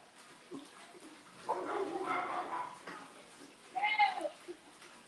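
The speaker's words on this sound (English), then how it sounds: "Oh God, I hate these dogs behind us" Dogs behind a house yelp and whine in two short bursts, fairly distant and muffled, with quiet stretches between.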